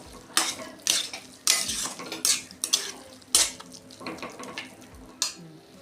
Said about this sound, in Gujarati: આ રીતના ચમચાથી પ્રેસ કરી અને સરસ રીતના મિક્સ કરી લેવાનું